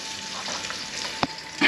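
Bacon fries in a pan with a dense, steady sizzle, broken by a couple of sharp pops near the end.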